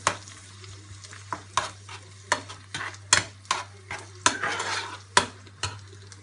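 Spinach and turkey macaroni being stirred in a pan, a series of distinct scraping strokes with a spoon against the pan over a soft sizzle, fairly quiet and close, no talking.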